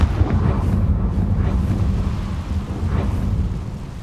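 A Confringo fire spell blasts in Hogwarts Legacy, a deep rumbling burst that rolls on steadily without fading, loud and close, with no voices over it.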